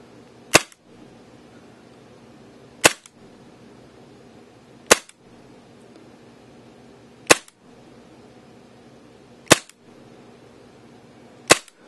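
A KWA TT-33 Tokarev gas airsoft pistol fires six sharp, crisp single shots spaced a couple of seconds apart, close and loud against a quiet room background.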